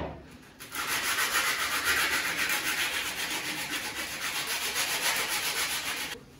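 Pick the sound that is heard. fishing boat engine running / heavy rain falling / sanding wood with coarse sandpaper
sanding wood with coarse sandpaper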